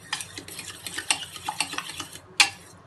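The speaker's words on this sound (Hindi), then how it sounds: "अब हम इन सारी चीज़ों को अच्छे से मिक्स कर देंगे" A spoon stirs cucumber raita ingredients together in a bowl, with a quick run of close clinks and soft wet scrapes and one louder knock near the end.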